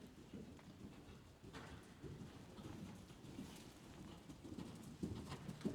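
Horse cantering in a riding arena, a steady rolling drum of muffled hoofbeats on soft footing that runs through the whole stretch, fairly close and moderate in level, with no talk over it.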